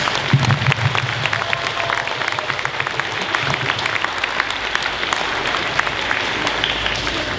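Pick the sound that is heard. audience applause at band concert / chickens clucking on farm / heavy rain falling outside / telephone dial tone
audience applause at band concert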